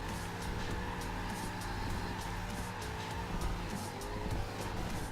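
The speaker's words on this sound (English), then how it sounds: "Ooh, that was nice. That was a nice little drift." A car in the Forza racing game drifts with a continuous, loud tire squeal layered over engine drone and skidding noise, steady throughout with no talk.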